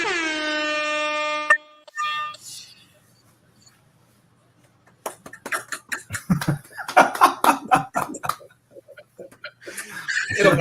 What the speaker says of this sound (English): So here's an air horn for you